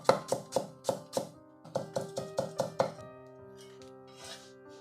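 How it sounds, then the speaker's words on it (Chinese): A knife chops ginger into thin shreds on a board: a quick run of about eleven sharp, evenly spaced taps with a short pause midway, close and clear, then quiet. "然后我们切一点点姜丝"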